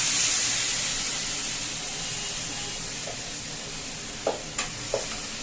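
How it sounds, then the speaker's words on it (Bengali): Marinated rice going into a pot over egg curry for pulao, with a steady sizzling hiss that starts loud and settles, followed near the end by a few short scraping or clinking knocks. "এবার আমি ম্যারিনেট করা চালটাকে এর উপরে দিয়ে দেবো।"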